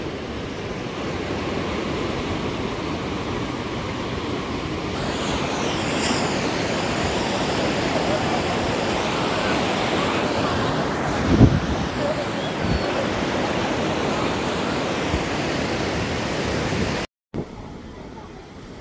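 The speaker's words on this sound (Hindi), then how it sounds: "सुनिए, इस समंदर के शोर को ध्यान से सुनिए।" Continuous roar of ocean surf on a beach at Somnath with heavy wind buffeting the microphone, steady throughout with a brief dropout near the end.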